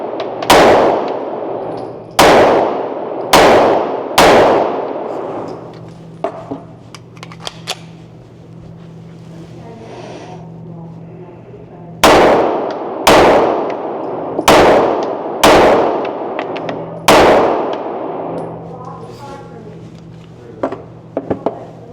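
A CZ Shadow 2 pistol fires two strings of five sharp, loud shots, first left-handed and then right-handed, with a quiet pause between the strings and a faint hum running underneath.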